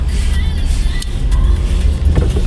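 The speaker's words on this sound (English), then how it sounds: "new Toyota Corolla has a really smooth ride. So smooth we're in stop and go traffic and Linda is asleep." A new Toyota Corolla creeps through stop-and-go traffic, a steady low road rumble and cabin hum filling the interior, with no talk over the continuous drone.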